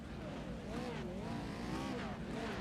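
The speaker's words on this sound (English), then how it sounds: "The revs are starting to rise" Race truck engines in the iRacing sim rev on the starting grid, their pitch rising and falling in wavering, overlapping sweeps under a steady rumble, fairly quiet.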